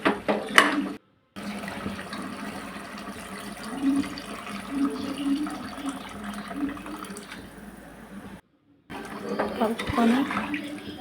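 Water splashes and gushes as it is poured into mutton curry in a pressure cooker pot, a steady rushing pour lasting several seconds, broken by two brief gaps.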